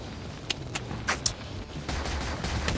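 Video game gunfire rattles in a few sharp bursts over a low rumbling background, moderately loud and close, with no voices.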